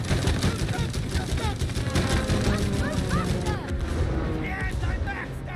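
Rapid gunfire from shooting at enemies during an aerial flight section of the co-op video game It Takes Two, dense bursts running throughout under busy game music and effects, with excited voices talking over it.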